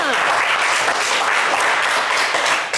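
An audience applauds warmly on a French-language television game show, steady dense clapping that holds throughout and fades slightly at the very end.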